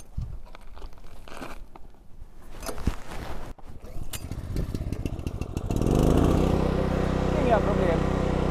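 A PELA 3200 W inverter generator is pulled and started, crinkling and rattling handling noises giving way to a steady, loud engine drone that keeps running to the end.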